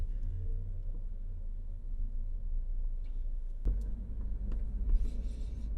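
A car moving through town streets, a steady low engine rumble and road noise close by, with a sharp thump or jolt midway and faint rattles afterward, no talking.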